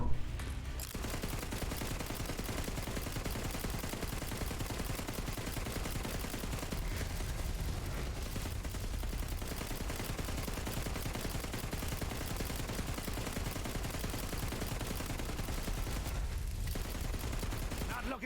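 Sustained heavy gunfire from Borderlands 3 combat, dense automatic bursts with booming impacts running nearly continuously at steady loudness, with brief lulls near the start and toward the end.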